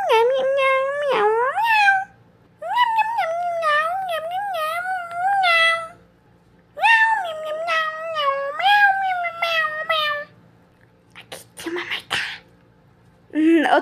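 A cartoon cat in a Toca Boca game meows repeatedly in long, wavering, high-pitched cries separated by short pauses, ending with a brief sneeze-like burst, loud and close with no talking over it.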